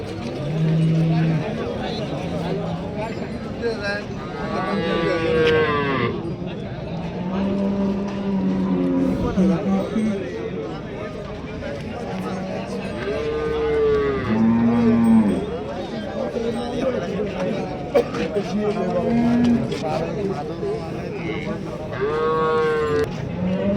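Several cows moo repeatedly, long drawn-out calls rising and falling, mixed with people talking and background commotion at the busy outdoor cattle and buffalo market in Chakan, Maharashtra.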